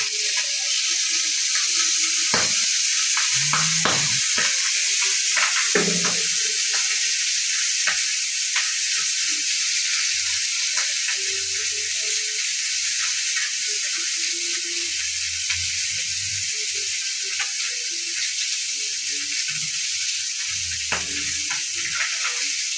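Pabda fish fries in a small amount of oil in a rural kitchen, with a loud, constant sizzle and occasional clinks and scrapes from the pan.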